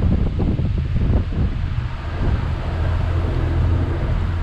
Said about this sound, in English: the conditions look very windy